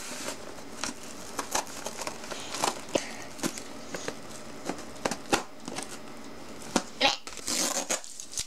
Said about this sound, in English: I'm probably gonna have to take some scissors to this.